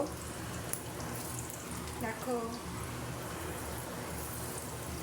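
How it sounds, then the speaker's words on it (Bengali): Pieces of sattu dhoka (gram-flour cakes) fry in oil in a pan with a steady, close sizzle, and a voice speaks briefly over it. "এই কটা দিয়ে দিলাম আপাতত ভাজা হোক"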